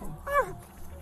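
A dog gives a single short, high whimper during a police arrest, a brief rising-and-falling cry lasting well under a second amid faint background noise.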